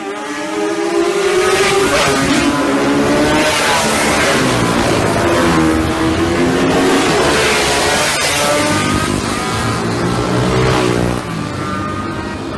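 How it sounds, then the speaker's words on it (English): 1960s 250cc two-stroke racing motorcycles in a classic lightweight race on the Isle of Man, high-pitched engines wailing and rising in pitch as they pass close and loud, with commentary voices underneath. "the 6-lap classic lightweight race gives us a chance to see some excellent close racing in a class made up predominantly of 250cc two-strokes from the 1960s"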